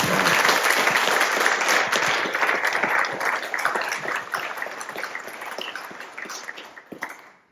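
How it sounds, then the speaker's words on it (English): Sustained applause from an audience at a community conservancy gathering, loud and dense at first and then slowly thinning and fading over several seconds, with no voices over it. "So again, let's give Lon another round of applause"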